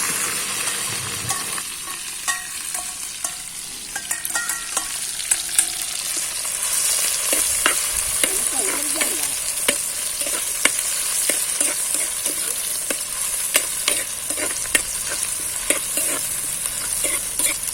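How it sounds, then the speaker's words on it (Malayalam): Crushed green chili, onion, garlic, ginger and curry leaves fry in hot oil, a steady loud sizzle that runs throughout and is broken by frequent clicks of stirring, close and with no voices. "ഇനി നമുക്ക് ചതച്ച് വെച്ച പച്ചമുളക്, ഉള്ളി, വെളുത്തുള്ളി, ഇഞ്ചി, വേപ്പില ഇടാം"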